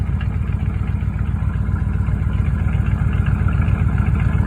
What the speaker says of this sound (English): But man, does that exhaust sound good.